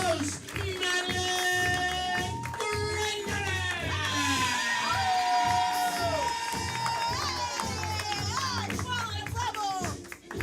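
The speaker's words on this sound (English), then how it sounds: "put those hands together, let's make some noise" A crowd at an improv comedy show cheers, whoops and claps loudly over thumping walk-on music. The noise rises and holds for several seconds before tapering off at the end.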